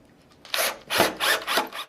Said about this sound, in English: simply begin by screwing those into place